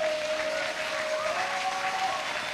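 Church congregation applauding during a worship seminar, a steady dense wash of clapping that fills the space with no voices over it.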